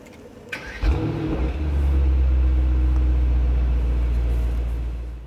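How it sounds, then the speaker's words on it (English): A Mercedes-AMG GT63S four-door saloon starting up with its exhaust set to race mode: a click, a sharp crank and catch, then a deep, steady idle rumble holding close and loud. "we'll start the engine with the start button that's moved up here"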